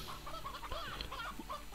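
Chicken clucking in the video game Slime Rancher, a few soft, quick clucks over a dense, constant game soundtrack and ambient hum, fairly faint overall.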